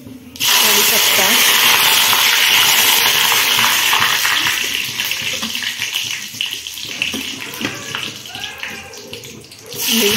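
Mustard seeds and curry leaves hitting hot oil in a pan for a dry potato sabzi, a loud sudden sizzle that stays steady and dense throughout, easing slightly midway before swelling again.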